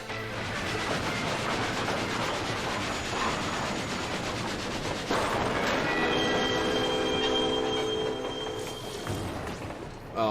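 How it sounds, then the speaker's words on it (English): Phantom Train in Final Fantasy XIV, a loud rolling rail rumble with rhythmic clatter, then squealing metallic wheel tones rising midway, continuous and near, with faint voices underneath. "Oh, we're not going to have the Phantom Train in the background."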